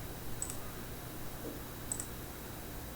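Two faint, sharp computer mouse clicks about one and a half seconds apart, over a low steady room hum with no speech.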